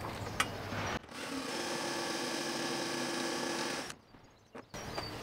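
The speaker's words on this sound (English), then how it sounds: "Cutting the plugs to go over them screw heads, fairly simple. Got the attachment in the drill." A steady power drill with a plug-cutter attachment whirs for about three seconds as it cuts wooden plugs, then stops, followed by a few faint clicks and handling sounds.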